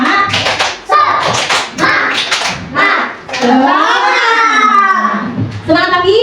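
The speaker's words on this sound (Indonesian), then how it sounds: "1 2 tepuk semangat." Children in a classroom doing a rhythmic spirit clap, quick patterned claps mixed with chanting voices, followed by loud children's shouting and singing close by.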